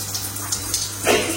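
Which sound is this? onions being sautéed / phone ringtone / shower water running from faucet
shower water running from faucet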